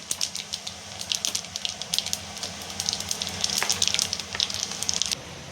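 Mustard seeds, chana dal and cumin hiss and sputter in hot oil for a tempering, a steady close sizzle with rapid crackling pops throughout.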